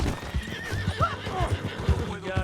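A horse whinnies in Red Dead Redemption 2, a short rising neigh over clip-clopping hooves and low game ambience, fairly close and moderately loud.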